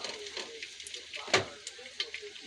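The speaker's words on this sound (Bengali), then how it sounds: "আমি পেঁয়াজ মরিচ রসুন ছেঁচে বাগার দিয়ে দিছি এখন ভাজা ভাজা হলে নামিয়ে ফেলবো" Crushed onion, chili and garlic sizzle in hot oil in a pan, a soft steady frying hiss with light spatter and one sharper crackle partway through, close and fairly quiet, with no talk.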